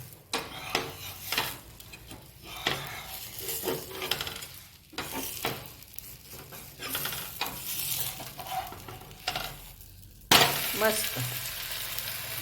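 A dosa sizzles on a hot griddle, a continuous crackling fry broken by stirring and scraping sounds, close up, with a louder burst of sizzle near the end.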